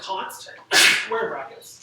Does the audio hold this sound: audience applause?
no